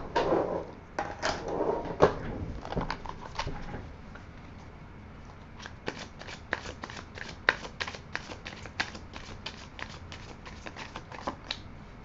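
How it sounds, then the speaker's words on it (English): Tarot cards being shuffled and riffled by hand, with a dense flurry of papery flutters early on followed by a long run of sharp, rapid card snaps at close range. "I'm going to shuffle and rifle once more."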